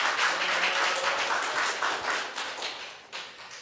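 A church congregation applauds as a pastor comes forward at a Sunday joint worship service, a moderate wash of clapping that gradually fades, with a few individual claps near the end.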